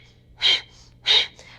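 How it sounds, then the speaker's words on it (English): Bellows breathing in a yoga practice: two sharp, forceful exhales through the nose about half a second apart, close and loud, with a fainter puff after each. "So a bellows breath"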